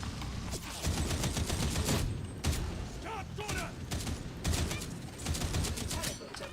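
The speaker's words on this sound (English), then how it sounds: "extended volley fire" Extended volley fire in the video game Darktide rattles as rapid bursts of gunshots with sharp cracks, mixed with mechanical clatter, steady and fairly loud throughout.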